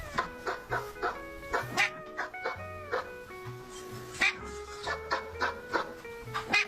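A cat lets out short, dog-like yelps and whines in a quick irregular series of close, harmonic cries, with a few faint low sounds between them.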